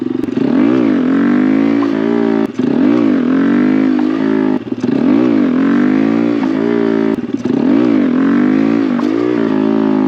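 Honda Grom motorcycle revving hard through repeated wheelie attempts, loud and close, its engine note rising and falling in four long throttle swells with brief drops between them.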